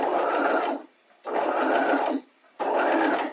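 A sewing machine stitches a Hong Kong seam finish, back tacking at the start and end of the seam: three steady, close bursts of motor whirr about a second each, with short pauses between them and no voices.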